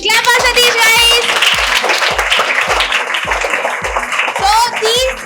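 A room full of students at a felicitation ceremony claps steadily and loudly for one of the top speakers, a sustained wave of applause with excited young voices and cheering mixed in.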